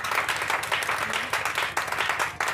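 Church congregation at a Sunday service claps and acclaims the Lord, a dense, steady patter of many hands with a faint murmur of voices, moderately distant and continuous for a couple of seconds.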